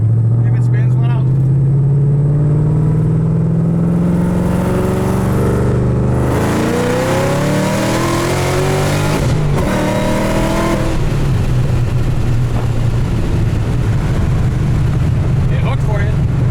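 A roughly 800 hp 2007 Shelby GT500 accelerating hard through the gears, its engine note climbing in loud sweeps with a brief shift break, heard from inside the car while occupants talk over it.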